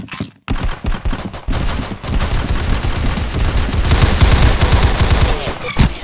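Rapid gunfire in the video game Arsenal, loud dense bursts of shots firing in quick succession after a short gap, close and continuous to the end.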